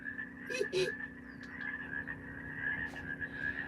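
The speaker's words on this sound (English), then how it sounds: "Looks like the frogs got out first." Frogs give a couple of quick croaks near the start, then softer chirps over a steady electronic hum and background noise.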